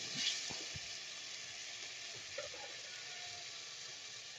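Spice paste sizzles and fries steadily in a pan for a koi fish curry with taro stolons, a soft continuous hiss with a few light stirring knocks near the start, faint and close.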